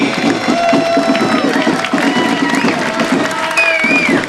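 A crowd applauds and cheers at a community 250th celebration parade, loud and close, with mixed voices, whoops and whistles over a busy, rushing bed of clapping and chatter.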